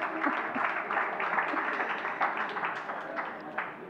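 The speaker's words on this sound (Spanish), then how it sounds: "Esto merecería un aplauso." A conference audience applauding, a dense steady patter of many hands clapping at moderate loudness throughout, with some voices mixed in.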